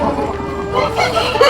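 Roosters and hens at a poultry farm, a loud nearby crow or cackle standing out over a constant din of clucking birds in a crowded shed.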